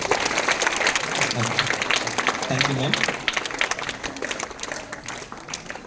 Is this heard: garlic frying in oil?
no